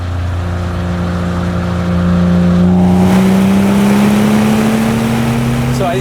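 A BMW 135i with the N55 engine, heard while driving: a loud, continuous engine drone that rises steadily in pitch as the car accelerates.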